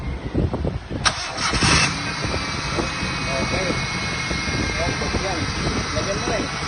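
A 1999 Honda Civic SiR engine cranks and catches in a brief burst near the start, then settles into a steady, loud idle that continues to the end, with people talking faintly underneath.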